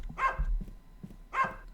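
A dog in the horror video game Bark lets out two separate bursts of barking, about a second apart, moderately loud against a quiet background.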